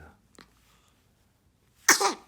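A single sharp sneeze bursts out near the end after near silence, loud and close, preceded by a faint intake of breath.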